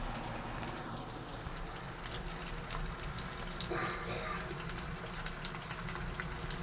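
Small onions (shallots) sautéing in hot oil for an onion tamarind curry, a steady soft sizzle and crackle throughout with faint scraping and clinks, close and even.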